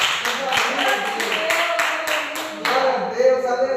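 A church congregation claps in a steady rhythmic beat, a string of sharp evenly spaced claps close by, with some voices mixed in.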